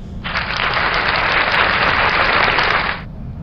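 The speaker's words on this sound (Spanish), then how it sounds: "voy a darle aquí al botón de la tabla de sonidos del aplauso" A canned applause effect fired from a soundboard button: a loud, uniform burst of crowd clapping that switches on abruptly, holds steady for about three seconds, then cuts off cleanly.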